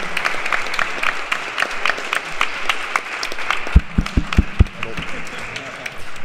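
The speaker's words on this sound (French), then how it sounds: "On peut les applaudir." An audience applauds the Alternatiba climate group at a French YouTubers' event, steady clapping of a crowd at moderate volume for several seconds, with a few sharp louder claps standing out near the end.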